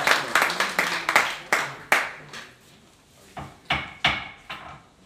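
Scattered claps at a meeting to approve a board chair's resignation: a few people clapping in short uneven bursts, fairly close, with a pause in the middle before another brief round.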